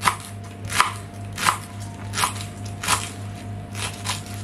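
A knife slices leek finely on a board, giving about seven crisp, evenly spaced chops close by over a steady background hum, with no voices.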